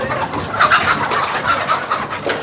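Chickens at a poultry farm in a market cluck and murmur in a close, busy flock, overlapping soft calls rising and falling throughout with no voices.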